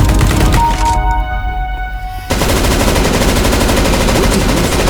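Gunfire from Counter-Strike: Global Offensive bursts loudly in rapid automatic volleys, with a brief near-silent gap before the shooting resumes densely.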